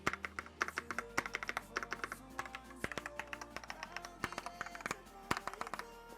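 Rapid, crisp keystrokes on a Marvo Monka Storm KG991W wireless mechanical keyboard with lubricated stabilizers, deep clacky taps in an uneven typing rhythm, close up and alone.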